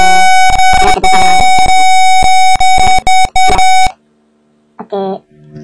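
A buzzer on an electronics light-sensor project sounds loud, continuous beeping tones, chopped into several bursts that then stop, followed by a short burst of speech.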